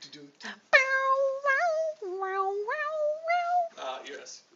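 A guitar bent and slid to mimic a cat, giving several wavering meow-like notes that glide up and down in short phrases, fairly quiet with brief gaps between them.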